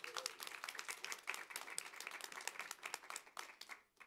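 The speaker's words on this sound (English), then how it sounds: "Let's get a big round of applause for all of them." Audience applause after a panel discussion at a conference on women leading India's future: dense, steady clapping from a sizeable crowd that stays fairly even and tapers slightly at the end, heard from a distance.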